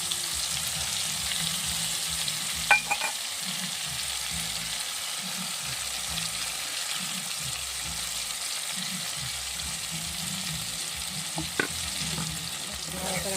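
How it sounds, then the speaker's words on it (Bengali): Ground spices frying in a pan with a little water for egg paturi, a continuous soft sizzle with a spatula scraping and stirring throughout, plus a couple of faint clinks. "নাড়াচাড়া করে নেব"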